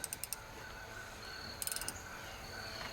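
A 17 millimetre ratchet wrench turns a bolt, giving two short, faint bursts of rapid clicking separated by a pause, close by under a low background hum.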